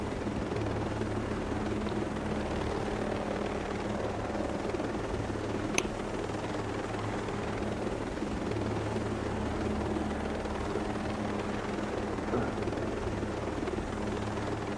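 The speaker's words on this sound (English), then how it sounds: "I've got to go into a helicopter and go from one place to another" Helicopter in flight in the video game Ghost Recon Breakpoint: a steady low rotor drone and engine rumble holds at an even level the whole time, with one sharp tick partway through and no talking.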